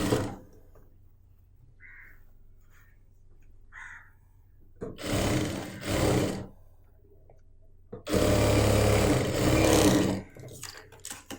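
An electric sewing machine stitching the bottom of a churidar pant in two separate runs, each a few seconds of close, steady whirring and clatter, separated by near-silence with faint handling noises.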